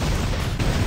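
A robot's jump thrusters fire in War Robots, a loud roaring blast of rushing noise that holds for under a second, close and dominant.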